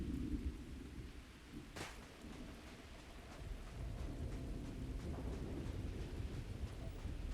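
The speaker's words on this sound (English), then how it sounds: "It must just be the rain, but it sounded like something moving." Steady rain falls in a Starfield planetary landscape, with a sharp distant thunder crack early on, then continuous rain hiss and low rumble throughout, no voices.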